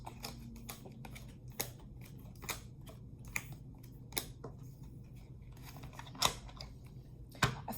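Tarot cards drawn and handled for a Celtic cross spread, a string of close, crisp flicks, taps and shuffles at an irregular pace against a quiet background, no talk.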